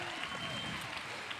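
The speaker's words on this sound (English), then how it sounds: "Give Mr. Noogi Tai a big round of applause." Audience applause for a stage artist at a Paul Mitchell main-stage show in Orlando, a brief burst of clapping heard at moderate distance and partly masked by voices.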